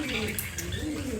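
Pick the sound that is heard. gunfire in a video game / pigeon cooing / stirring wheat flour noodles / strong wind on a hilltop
pigeon cooing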